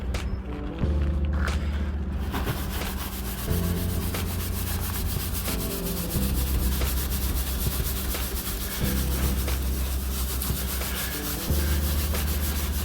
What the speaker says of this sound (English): I think it's going to take a lot of scrubbing.